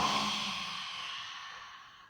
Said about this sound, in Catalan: Feu l'aire ara per la boca.